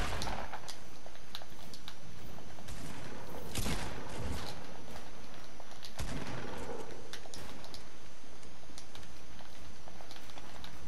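Rapid gunfire in a Fortnite Battle Royale duo-squads match, dense bursts of shots crackling through a steady wash of game noise with a few louder bangs, no one speaking.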